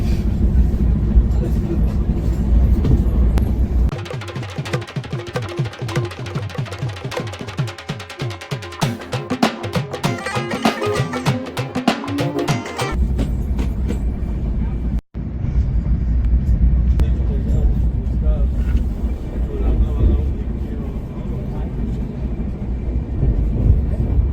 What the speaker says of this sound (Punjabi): ਬਹੁਤ ਫਾਸਟ ਜਾ ਰਹੀ ਹੈ ਟ੍ਰੇਨ